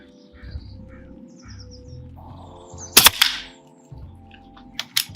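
A single sharp shot from an ATA Airborne side-lever air rifle rings out mid-clip over quiet outdoor ambience with birds calling, followed later by a fainter crack.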